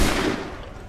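Loud, dense burst of musket gunfire from a volley in Assassin's Creed 3, a single heavy crackling blast that fills the moment and slowly tails off without any talk.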